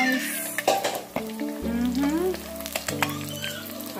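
Fish fries in a pan with a bright, close sizzle, overlaid by tonal background music or voices and a few sharp clatters from the cookware.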